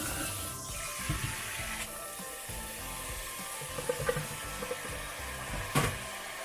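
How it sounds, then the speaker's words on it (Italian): Water splashes and runs as cooked rice noodles are cooled in a basin of cold water, a continuous rushing with a few small clinks and splashes, close and fairly loud. "Raffreddiamoli con dell'acqua fredda e meglio ancora immergiamoli in una bacinella di acqua fredda."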